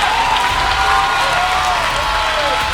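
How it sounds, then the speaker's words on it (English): A church congregation claps in sustained applause, loud and steady throughout, with a preacher's voice faintly mixed in at times. "Come on, give Jesus a mighty hand clap"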